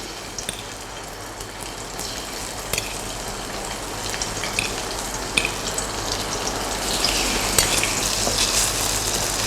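Beef fries in a hot wok with a steady, dense sizzle, close and continuous, with occasional stirring clicks and scrapes and no talking.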